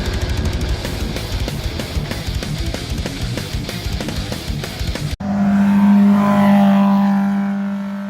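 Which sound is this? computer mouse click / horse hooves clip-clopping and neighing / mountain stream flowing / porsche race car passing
porsche race car passing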